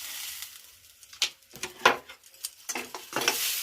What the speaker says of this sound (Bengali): এইবার এইটিকে ভালো করে নাড়বো যতক্ষণ না তেল ছেড়ে আসে